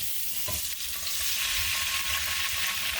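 Red wine poured into a hot pan of onions for a marinara sauce, giving a loud, steady, close sizzle that hisses evenly throughout.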